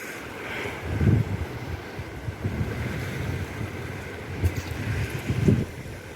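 Floodwater of the Baitarani River near the Anandapur Barrage after heavy rain: a steady low rushing roar of fast-flowing water with wind buffeting the microphone and occasional louder surges, continuous throughout with no speech.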